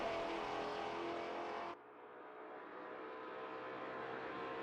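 A Maserati race car at Monza in a racing video game, a steady engine roar that cuts abruptly to a quieter, slowly rising drone, with no talk.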